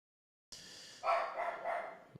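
A small dog barks at someone at the door, a brief burst of a few sharp yapping barks heard from a short distance indoors after a moment of silence.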